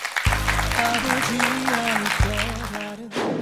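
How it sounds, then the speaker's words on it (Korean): Church congregation applauding in thanks during a sermon, steady broadband clapping under sustained organ or keyboard tones, with a brief pause near the middle and a fresh burst at the end. "우리 하나님께 다시 한번 감사의 박수 올려드리겠습니다"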